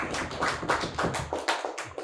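Applause from a lecture audience, a loose patter of claps from several people in the room, uneven and moderately loud, with no talk over it.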